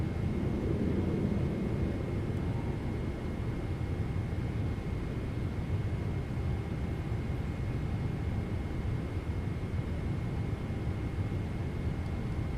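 Landing gear extending on a PMDG 777-300ER in Microsoft Flight Simulator 2024, carried by a steady broadband cockpit rumble and airflow roar that stays loud and even throughout, with no clear separate clunk.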